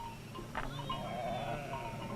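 Sheep on dry Navajo grazing land give a short bleat over a steady old film-soundtrack hiss and hum, faint and somewhat distant.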